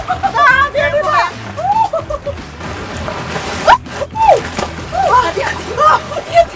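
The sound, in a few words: ocean waves splashing on the shore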